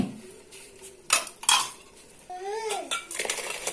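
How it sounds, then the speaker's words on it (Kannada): Hot coals are set on top of an inverted clay pot lid over chicken biryani cooking in a clay pot, giving sharp clinks and scrapes with a short ringing ceramic tone near the middle, close and moderately loud. "ಇದಕ್ಕೆ ಬಾಯಿ ಮುಚ್ಚಳವನ್ನು ಈ ರೀತಿ ಉಲ್ಟ ಹಾಕಿ ಇದರ ಮೇಲೆಲ್ಲ ಕೆಂಡವನ್ನು ಆ್ಯಡ್ ಮಾಡ್ತೇವೆ"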